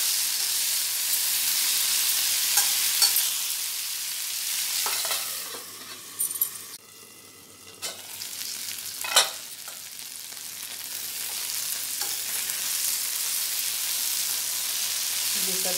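Vegetables sizzle steadily in a pan on low flame for a Hindi home-cooking dish, a soft continuous frying hiss that briefly dips midway when something is handled, then resumes evenly.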